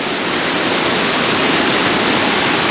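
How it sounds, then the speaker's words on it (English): Small mountain waterfalls along a walking trail produce a loud, steady, close-up rush of falling water that fills the whole clip without pause. "There's all these little small waterfalls all the way till you get to the big one."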